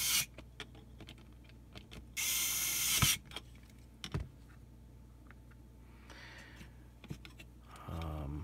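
Small fan screws are driven into a Young Living Desert Mist diffuser, giving scattered ratcheting clicks and a couple of longer mechanical whirring bursts close by, with faint handling knocks between them.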